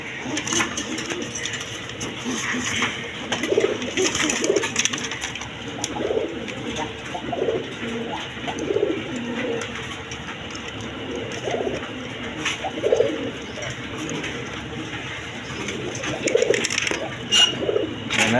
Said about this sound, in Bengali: দর্শক এখানে এক পেয়ার ব্লেজার কবুতর আছে দেখেন